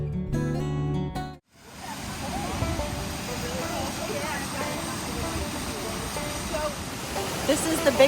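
Water rushes steadily from an artificial artesian well at the Big Run Geyser, where groundwater comes up through a PVC pipe set in the ground. A close, continuous wash of flowing water follows a short pause near the start.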